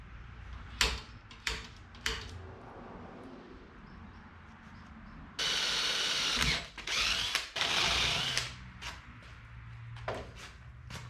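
Power drill boring a mounting hole for a U-Haul box-truck bumper being lowered onto a slammed vehicle, a few short ratcheting bursts and then several longer, louder drilling runs, close by with no talk.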